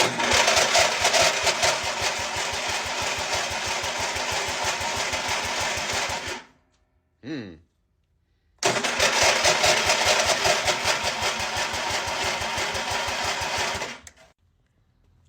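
A Craftsman YT3000 lawn tractor's small engine chugs steadily and loudly, cuts out, gives a brief sputtering crank, then roars back to a rapid, steady running rhythm at full throttle before stopping.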